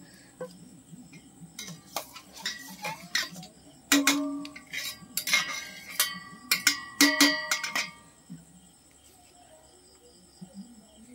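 Pot of lentils set on the stove for khichuri, a scatter of close metallic clinks and knocks over several seconds against a soft background of insect chirps, then quiet.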